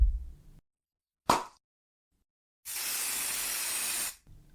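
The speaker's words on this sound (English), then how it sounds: "I'm spraying the hatch with fingerprint spray 451" Fingerprint spray hisses onto a metal hatch at a crime scene: one short burst, then a longer steady spray of about a second and a half, close and fairly loud in a quiet room.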